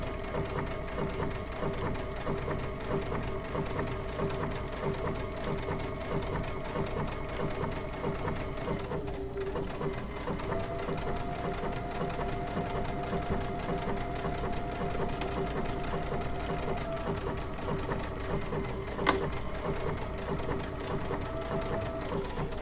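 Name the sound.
Baby Lock Altair sewing machine stitching fabric with circular attachment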